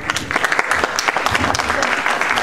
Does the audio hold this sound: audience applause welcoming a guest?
yes